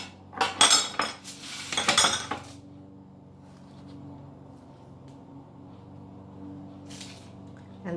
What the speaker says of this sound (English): So put some flour on your scone cutter and just cut down and out and onto your baking tray.